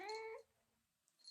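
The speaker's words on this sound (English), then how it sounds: "Angry cat." A house cat meows loudly and angrily in one drawn-out, harmonic cry at close range, then quiet room tone follows with a faint rustle at the end.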